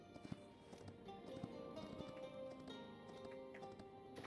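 A horse in the Hytale video game clip-clops along in a quick, faint rhythm of hoof taps over a soft game background, with no talking.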